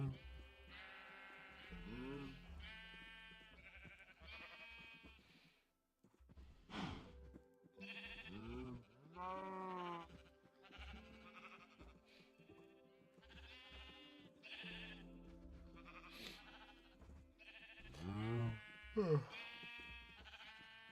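Minecraft sheep bleat repeatedly, mixed with goat-like calls and a low buzz, while a voice talks over the animal sounds throughout.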